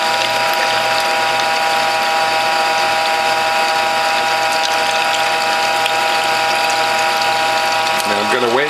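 A citrus juice press pressing tangerines grinds and ratchets with a steady, close mechanical whir and a tonal hum. Near the end it shifts, and a voice briefly comes in.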